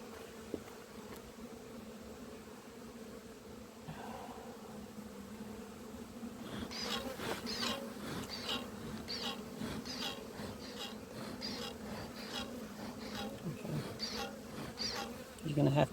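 Honey bees hum steadily around an open hive during an inspection and split, a close, continuous buzzing drone that thickens and grows busier partway through, with occasional soft handling noises.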